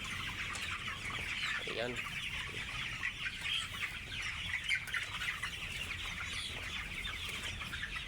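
Layer hens clucking on a poultry farm, a busy chorus of overlapping clucks and chatter from many birds, steady and moderately distant, with a brief spoken word from a person.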